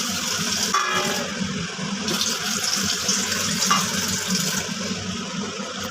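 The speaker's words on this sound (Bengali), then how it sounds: "আমি জলও দিয়ে দেবো।" Water gushes steadily into a pan of paneer curry, a loud, close, continuous pour that runs for several seconds with small splashy variations.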